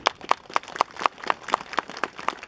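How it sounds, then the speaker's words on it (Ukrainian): Rhythmic unison clapping from a crowd at a street protest rally, about ten evenly spaced claps at a steady beat, fairly close and distinct. "Давайте оплесками їх підтримуємо"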